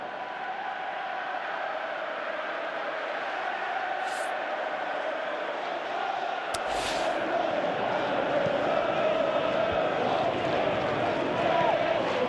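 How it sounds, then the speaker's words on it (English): A stadium crowd in an eFootball match roars in a steady, dense wash of noise throughout, swelling slightly toward the end, with commentators talking over it. "you can hear how the crowd are reacting to this too"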